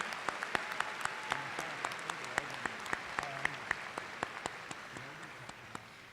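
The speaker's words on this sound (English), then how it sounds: "Let's give another round of applause to these amazing speakers that we've had so far." A graduation crowd at a high school ceremony applauds the speakers, a broad, distant wash of clapping with a few sharper nearby claps standing out, steady throughout.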